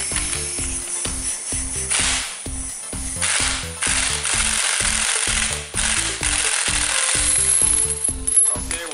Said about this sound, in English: so you can take it off with the impact